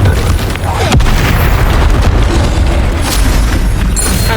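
Bombarda spell explosions in the game Hogwarts Legacy, a dense continuous roar of loud booming blasts with bursts and rumbles lasting throughout, no talk over them.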